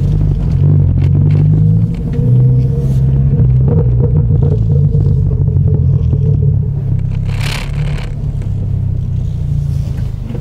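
A 2022 Toyota Corolla Hatch with a full exhaust and AMT stage 2++ tune, recorded from outside, gives a loud, steady, close-up low engine rumble with slight rises and falls throughout. No one speaks.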